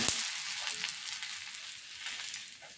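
A double-decker spicy dosa sizzles steadily on a hot pan, a bright continuous frying hiss with small crackles and a few soft scraping touches, close and alone without voices.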